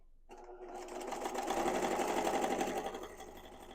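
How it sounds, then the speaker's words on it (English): A sewing machine runs a long basting gathering stitch for a peasant dress, starting after a brief silence and then whirring steadily and evenly at close range, with no talk over it. "you're just going to make a basting stitch or a gathering stitch all the way around"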